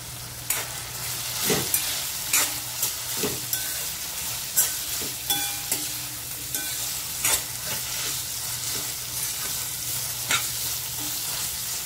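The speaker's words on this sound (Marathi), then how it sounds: "कांद्याबरोबरच गाजर आपल्याला परतून घ्यायचं आहे" Carrots and onions sauté over a high flame in a pan, a loud continuous sizzle broken by frequent scraping stirs and clinks of a spatula, close up with no talking.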